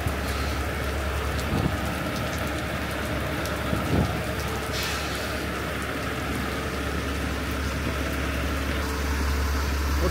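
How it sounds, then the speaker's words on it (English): Heavy rain pouring down outdoors: dense, constant hiss of drops hitting surfaces, loud and close, with a couple of faint thuds and no speech. "this rain is pouring cats and dogs"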